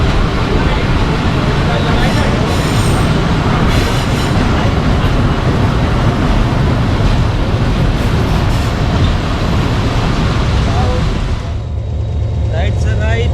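The Marvi passenger train travels through the Thar Desert between Khokhropar and Mirpur Khas, a loud, continuous rumble of wheels and carriages heard from on board, with voices in the car mixed into the steady roar.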